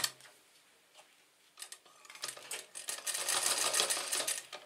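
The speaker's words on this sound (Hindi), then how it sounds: "बैठाने के बाद आप इस पर सिलाई लगाइए।" A sewing machine stitches a half-inch folded curtain hem, starting quietly and building into a steady, fairly loud rapid mechanical whir with ticking texture for several seconds, with no talking.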